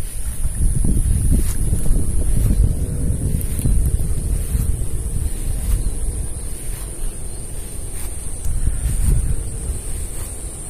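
Strong wind roars and buffets the microphone continuously in a hot rice field, a loud low rumble with no voices throughout.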